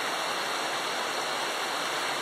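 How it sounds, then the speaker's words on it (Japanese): A river flows below a mixed-bath hot spring inn on Mount Akagi in Gunma, producing a steady, unbroken rushing roar with no voices. "下はこの川が流れてまして"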